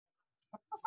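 A few short, soft clucks from chickens, close by, in quick succession after a brief silence.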